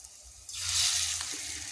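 Potato pakora dough is dropped into hot oil and begins frying, a soft hiss that swells into a steady, close sizzle after half a second.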